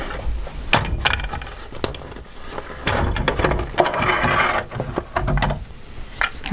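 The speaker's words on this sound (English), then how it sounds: "Turn it slightly to clear the needles and bring it on out." A finished hat hoop is worked free of an embroidery machine, with a run of sharp plastic clicks, clunks and ratcheting snaps at an uneven pace, close and fairly loud over quiet room noise.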